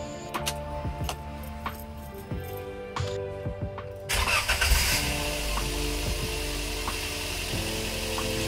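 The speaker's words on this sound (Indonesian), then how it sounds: "Ini mesin sudah kita nyalakan" A Daihatsu Gran Max, just repaired after severe overheating in its cooling system, cranks with a brief starter whir, catches, and settles into a steady close-up idle hum.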